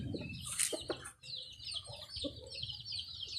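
Ducks call and cluck, rising and falling across the clip, with quacks and chatter mixed in amid an outdoor background hum; no one speaks.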